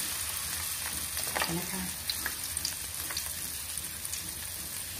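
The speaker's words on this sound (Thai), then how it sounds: "เอาปลาที่เราจะทอดนะคะลงไปเลยนะคะ" Fish coated in crispy frying batter sizzles in hot oil in a pan, a steady close crackle with scattered pops, while someone speaks briefly over it.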